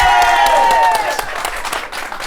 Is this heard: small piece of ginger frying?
no